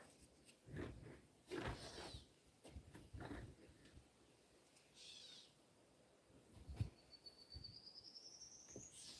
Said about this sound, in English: That's my favorite bird sound right there.